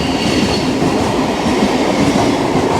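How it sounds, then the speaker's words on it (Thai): Steady rumble and clatter of a train to Oslo rolling along the rails as it arrives at a station, loud and close, with no talking. "อันนี้รถไฟไปออสโลจ้ะ"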